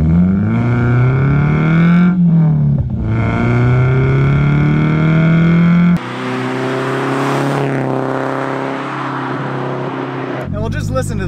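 A modified, naturally aspirated four-cylinder engine in a 2005 Scion tC revs loudly and holds a high droning pitch, dipping and climbing again, then drops away abruptly; close by with no talk.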